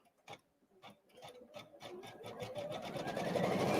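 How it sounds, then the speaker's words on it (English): An embroidery machine stitches out a Christmas card design, starting with a few slow separate stitches and then building into a fast, steady mechanical chatter that grows louder, close by and alone. "And then we can press start again and we can start stitching this out."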